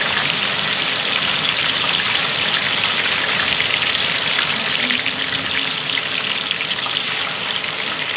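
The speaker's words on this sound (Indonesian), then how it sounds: "kita akan goreng ayamnya ke dalam minyak yang sudah panas ya" Chicken pieces fry in hot oil with a loud, dense, continuous sizzle and crackle that stays even from start to finish. No one speaks.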